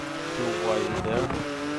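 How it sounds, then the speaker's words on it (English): A BMW car engine in Forza Horizon 4 drones steadily with rising and falling revs, mixed with tire and road noise, while a person talks over it. "that BMW sounds really well"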